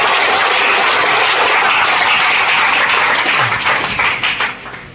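Loud, dense audience applause fills a hall at an AWPL business and income plan seminar, sustained clapping at close range that thins and fades out toward the end.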